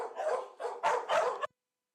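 Dogs bark indoors in a quick run of about four muffled barks, moderately near, then silence.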